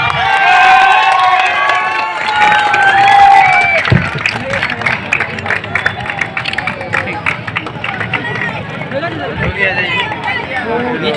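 A crowd at a football tournament prize ceremony applauds and cheers, loud clapping and voices filling the space steadily after an announcer speaks over a microphone.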